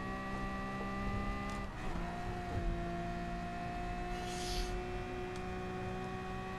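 A Ferrari race car, either the 250 GTO or the 330 P4, races on the old Le Mans layout in GT Sport. Its engine drones steadily throughout with rising tonal harmonics as it accelerates, and a brief hiss appears near the end.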